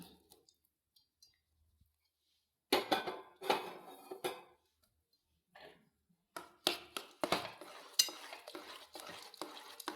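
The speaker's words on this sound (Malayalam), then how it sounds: "ഇളക്കി യോജിപ്പിച്ച് കൊടുക്കാം" Jaggery being stirred into banana payasam in a pot: a spoon scrapes and clinks against the pot in bursts after a quiet start, with short pauses between bouts of stirring, close and clear.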